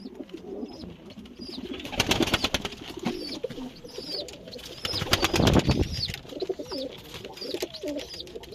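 Soft, repeated dove cooing among other bird calls at a coop in the evening, with a brief flutter of wings partway through; moderately close and steady.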